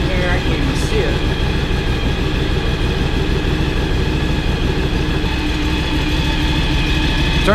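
A John Deere X724 lawn tractor engine runs at a steady, loud idle, a dense low rumble with constant mechanical chatter from start to finish, up close with no break.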